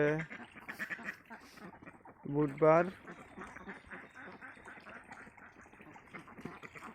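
A flock of farm ducks eating quacks nearby in dense, overlapping bursts, one loud honking run standing out, while a person talks quietly over them.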